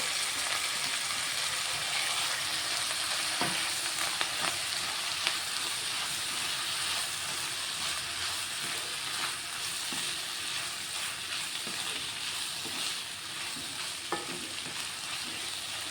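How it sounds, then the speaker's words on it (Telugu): Chopped tomatoes fry in oil in a pan of bitter gourd curry, giving a loud, continuous sizzle close to the listener with occasional stirring scrapes and no talk. "ఇప్పుడు ఇందులో టమాటా వేసుకుంటాను ఇదిగోండి ఒక మూడు టమాటాలు కట్ చేసుకున్నాను"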